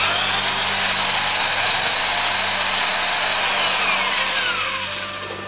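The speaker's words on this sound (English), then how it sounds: "We'll introduce the bore brush inside the heating element in this orifice." A bore brush scrubs inside the heating element of a rusty, flux-contaminated soldering iron, making a loud, continuous, harsh whirring rasp that holds steady before easing off at the end.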